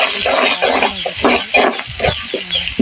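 Leafy greens for shak bhaji sizzle in a pan close up, with rhythmic bursts of stirring and scraping over a steady frying hiss.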